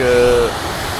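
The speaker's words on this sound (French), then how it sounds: "la petite arrêt pour montrer un peu la petite cascade qu'il y a" Small Alpine waterfall near Mont Thabor, a loud steady broadband rush of falling water close by, with a brief tonal hum fading out early.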